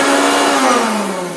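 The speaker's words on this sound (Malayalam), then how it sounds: "മിക്സി ഇപ്പോൾ നല്ല വർക്ക് ചെയ്യുന്ന മിക്സിയാണ്." An electric mixer grinder (mixie) running at close range, a loud steady motor whine that drifts slightly lower in pitch as it spins for over a second, with no talk.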